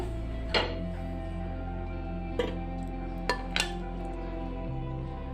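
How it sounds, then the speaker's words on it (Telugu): Sweets set one by one onto a plate, four light clinks spread unevenly across a steady low background hum, soft and close. "ఇలా పెట్టుకుని ప్లేట్లో వేస్తున్నాను ఒక్కొక్కటిగా."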